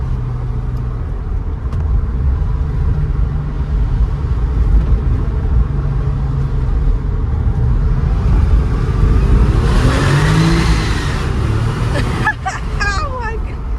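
A 1997 Porsche 993 Turbo S accelerates under a bridge, heard from inside the car as a heavy low engine rumble that builds to a louder, rising roar, with voices talking briefly over it near the end.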